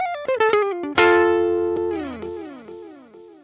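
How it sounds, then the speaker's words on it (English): An electric guitar played through an analog delay pedal with distortion picks a quick run of notes, then a held note and a few more hits, each followed by repeating echoes that trail off at the end. "at the very end, I'll hit the echo on and we can hear the tail end of it"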